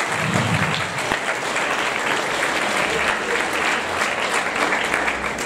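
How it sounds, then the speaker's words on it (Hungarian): Audience applause at a school Christmas show in a Szekszárd secondary school hall, a dense, steady wash of many hands clapping throughout, fairly loud and continuous. "Azt hiszem, valamennyien megérdemelnek egy nagy tapsot."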